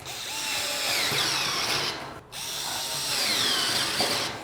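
A Xiaomi Mijia rechargeable electric screwdriver runs with a steady high motor whine, stopping briefly at the midpoint before spinning up again, loud and close with no talk.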